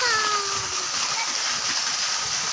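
Waterfall at a local barangay beauty spot, a steady broadband rush of falling water filling the clip, with a bird-like whistle near the start.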